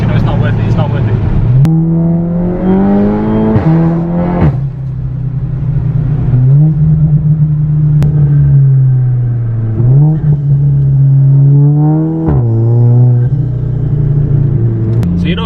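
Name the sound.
420 bhp Seat Leon Cupra engine revving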